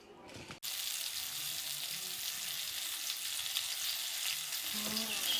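Tilapia fish fries on a stone pan in a home kitchen with a strong, steady sizzle that starts abruptly after a brief quiet moment and continues unbroken at close range.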